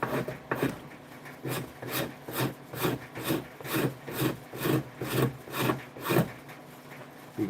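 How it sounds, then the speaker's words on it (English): A hand tool scrapes thin shavings off curved wood in a steady back-and-forth rhythm, each rasping stroke close and distinct, about two per second, with no talk. "it scrapes off little shavings at a time"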